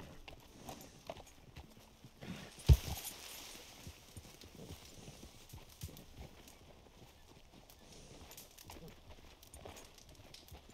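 Horse hooves clip-clop at a steady walking pace in Red Dead Redemption 2, moderately close and continuous beneath ambient game sound, with one sharp louder knock partway through.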